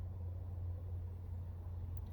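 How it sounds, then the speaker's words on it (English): A steady low rumble of weekend road traffic passes continuously at a moderate distance, with no voices or distinct individual vehicles standing out. "Traffic increases dramatically here every single weekend."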